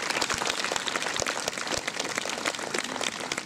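Concert audience applauding in a hall in Bydgoszcz, Poland, for a musician at a jazz show; dense, steady clapping fills the space continuously, loud and unbroken with no voices over it.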